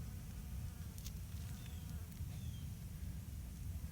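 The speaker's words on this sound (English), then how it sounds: "Yep, the bees are out." Bees buzz faintly around a flower garden in May, a low, steady drone with the occasional brief hum of an insect passing close by.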